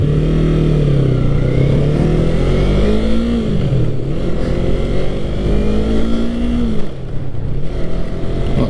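A Yamaha MT-03 motorcycle engine drones loudly on the road, its pitch climbing and dropping as the rider revs and shifts through the gears, heard close with steady wind rush.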